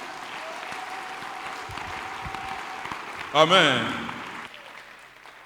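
Church congregation at an IFCM service in Lubumbashi breaks into a short burst of clapping after a spoken prayer ending, loud and close for about a second before fading under continued room noise and speech.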